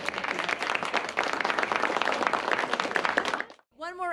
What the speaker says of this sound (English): One more round of applause for Sandy.